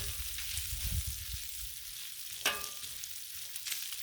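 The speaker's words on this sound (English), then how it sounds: "So we're going to get our bacon crispified." Bacon crisping on a Blackstone flat-top griddle, a steady broadband sizzle running throughout with a brief sharper spatter or scrape near the middle.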